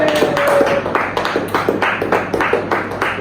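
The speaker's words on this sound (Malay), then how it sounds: "bagi tepukan kepada Cikgu Sosial." A classroom of students claps for their teacher, a brief burst of fairly loud, close clapping with distinct hand strikes, plus a faint tonal whistle near the start.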